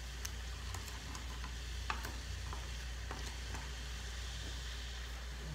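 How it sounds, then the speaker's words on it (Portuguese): Caramel bubbling in orange juice in a pan, a steady low simmering hiss with scattered small pops and ticks, fairly quiet and continuous with no talking. "Conforme ele fervendo, vai derreter todo esse açúcar."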